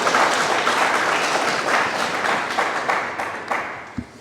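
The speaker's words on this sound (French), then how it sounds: "vous les applaudissez" Audience applause at an entrepreneurship training event, a dense steady wash of clapping that holds for several seconds and slowly thins out toward the end.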